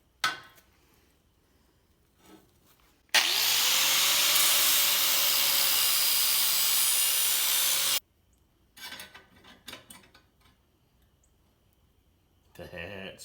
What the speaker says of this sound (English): got a lot to cut off or grind down from the back side here